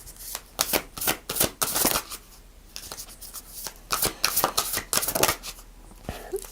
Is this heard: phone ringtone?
no